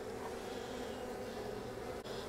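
Honey bees at an open backyard hive hum in a dense, steady buzz, close and continuous, with a brief knock near the end.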